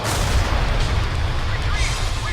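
A missile blast in Ace Combat: The Belkan War booms close and heavy, a thick rumbling burst that stays loud across its length.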